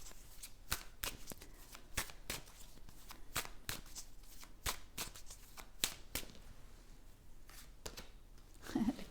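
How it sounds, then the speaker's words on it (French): Tarot cards being shuffled by hand, a run of sharp riffling slaps and flicks at an uneven rhythm, close and fairly quiet, with no one speaking. "je vais tirer une autre carte"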